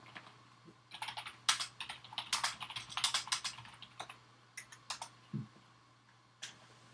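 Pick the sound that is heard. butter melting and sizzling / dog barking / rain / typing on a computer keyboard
typing on a computer keyboard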